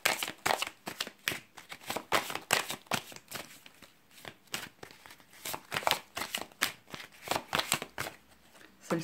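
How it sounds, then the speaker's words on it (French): Tarot-style cards shuffled and drawn by hand in a professional card reading, a fast run of crisp riffling and flicking snaps in irregular bursts, close and clear with no talking. "je vais tirer une dernière carte."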